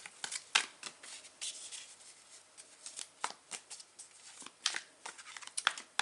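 Mystic Mondays tarot cards being shuffled by hand, close and quiet, with irregular riffling bursts and soft card slaps spread across several seconds and no talking.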